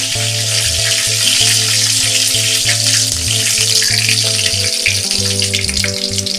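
Fennel seeds and curry leaves splutter in hot oil for a chicken uppu kari, a close, continuous sizzle dotted with rapid little crackles and pops, with no talking.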